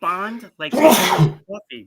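One sharp, forceful sneeze bursts out between snippets of conversation, close and loud, with people talking just before and after it.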